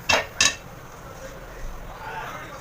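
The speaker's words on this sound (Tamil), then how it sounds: "ஒரு பாத்திரத்தை அடுப்பில் வையுங்க" A metal cooking pot is set down on a stove for a Kerala-style fish curry, giving two quick clanks close together near the start, followed by quiet room tone.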